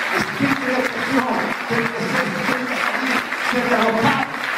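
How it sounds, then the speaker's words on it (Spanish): Congregation applauding at an evangelistic church service, a steady wash of clapping throughout with a voice talking and singing-like tones over it. "Den el aplauso al Señor Jesucristo."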